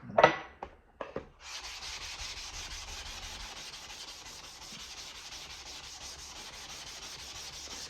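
A Hinoura petty knife is rubbed steadily on a whetstone to raise slurry, a continuous close scraping after a few brief initial strokes, with no talking.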